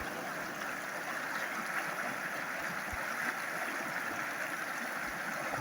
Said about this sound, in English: I love the sound of flowing water.